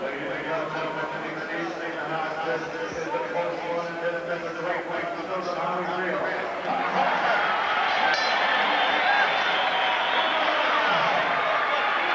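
A boxing arena crowd applauds and cheers in the final round of a bout, the noise swelling to a louder roar partway through while a commentator talks over it.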